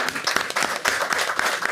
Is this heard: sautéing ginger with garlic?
no